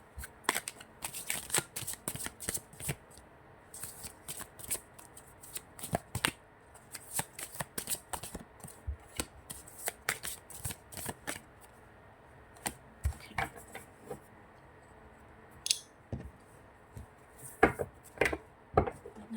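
A deck of tarot-style reading cards being shuffled by hand, with crisp riffling snaps and flicks coming in irregular bursts, close and quiet, with long soft pauses between handfuls.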